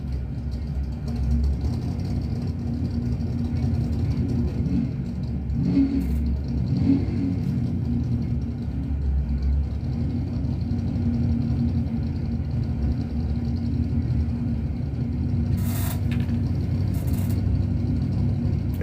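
Drag racing cars at WWT Raceway rumble and rev through a steady, loud engine roar for nearly twenty seconds, with a brief louder surge midway and crowd noise mixed into the racetrack din.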